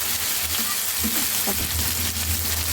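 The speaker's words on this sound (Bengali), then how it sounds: "আমার পেঁয়াজ রসুনটা বাজা হয়ে যাচ্ছে" Onion and garlic frying in a pan for a rohu fish kalia, a steady close sizzle with faint stirring scrapes, no voices.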